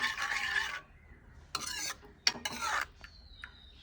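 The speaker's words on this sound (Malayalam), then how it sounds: "നമുക്ക് വെള്ളം ഇളക്കി കൊടുക്കാം" A spoon scrapes and stirs inside a pot of boiling coloured syrup mixture for a homemade sherbet concentrate, coming in short bursts of rasping strokes with quiet gaps between, close and moderately soft.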